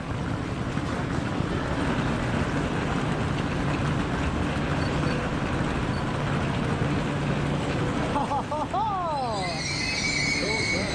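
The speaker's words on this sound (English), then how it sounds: "Here is our train rolling into the station." A train rumbles and rolls steadily into a station in St. Petersburg, Russia, with a low mechanical roar and rail noise, and a faint squeal rises near the end.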